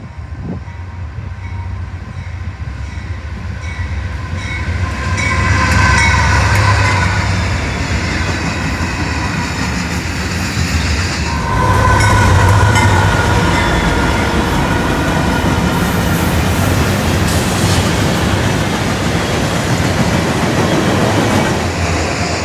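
A Norfolk Southern manifest freight train led by AC44 locomotives rumbles past loudly, wheels clacking steadily over the rails, the heavy roar swelling as the cars roll by.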